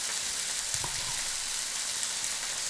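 Rougail saucisse frying in a pan, a steady hiss of fine sizzling with a few soft stirring knocks early on, fairly close and even throughout, no talk.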